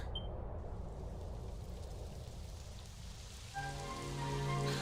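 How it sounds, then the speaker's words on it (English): Steady rain hisses softly in a Dragon Quest XI game soundscape, joined partway through by sustained electronic tones and a low hum. "It would have to go and start raining, wouldn't it?"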